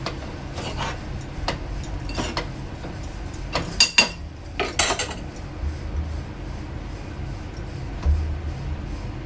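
A spoon scrapes and clinks in a pan while Bombay duck is stirred into an oily sour curry. The taps and scrapes are irregular and close, with a faint background hiss.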